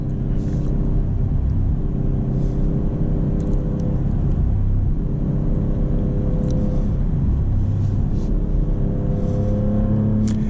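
A 2025 Maserati GranCabrio Trofeo drives with a loud, steady engine drone and road rumble heard from the cabin, its pitch rising and settling in waves as it accelerates and eases off.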